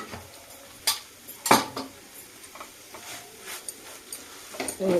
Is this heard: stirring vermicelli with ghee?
yes